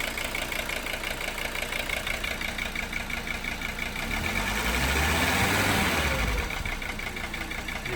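A Mercedes 300SD diesel engine runs steadily close up, then a blip of throttle brings a deeper rising swell of engine noise midway before it settles back to a clattering idle.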